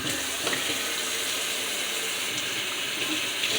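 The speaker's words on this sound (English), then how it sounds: "you turn on the water" Water runs from a tap while someone cleans the inside of a fridge, producing a steady, even rushing splash that carries on throughout with no talk.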